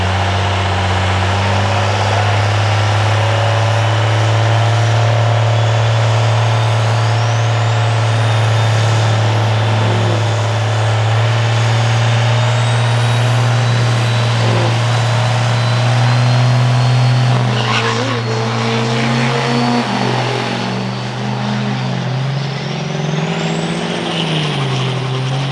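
A Cummins diesel truck roars at a drag strip during a budget diesel racing event, a loud sustained engine drone that shifts in pitch as it powers down the track.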